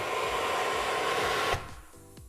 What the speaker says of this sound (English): Another really cool feature about this house, they have a vacuum system